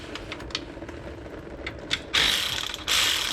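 A hand ratchet clicks in quick bursts while loosening bolts on the transmission pan of a 2003 Dodge Ram 3500 with a 5.9 diesel, first faint sparse ticks, then two loud dense ratcheting runs close by.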